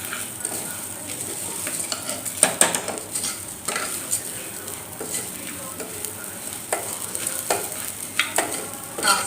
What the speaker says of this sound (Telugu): కాస్త వేగనివ్వాలి.